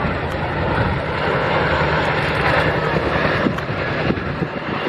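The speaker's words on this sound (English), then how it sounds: "Chinook is used in operations moving stores, freight vehicles everywhere from Afghanistan to Whaley Bridge." A Chinook tandem-rotor helicopter flies past at an RAF Cosford air show, a loud continuous broadband roar and rumble of rotors and engines with wind buffeting on the microphone.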